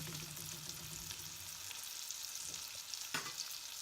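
A small rabbit, duck, herb and garlic burger patty frying in a pan gives a steady, soft sizzle that stays even throughout, with one brief brighter crackle near the end.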